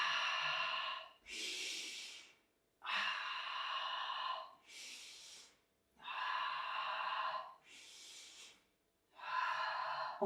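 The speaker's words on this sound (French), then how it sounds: "J'inspire." A person breathing slowly in and out during an upper-body exercise, with breaths alternating in long, rhythmic cycles, close and fairly soft.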